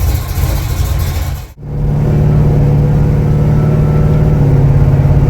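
A car engine runs loudly up close during a drive, briefly dipping as if lifting off, then pulling again with a steady, droning low hum and mild revving.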